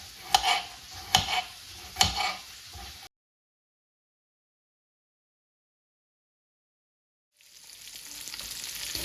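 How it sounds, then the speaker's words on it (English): Sausage for jambalaya fries in a pot over medium heat, giving a crackling sizzle with three sharp scraping stirs at the start, then a long silent gap before the sizzle returns and builds. "I am going to stir frequently until the sausage has browned."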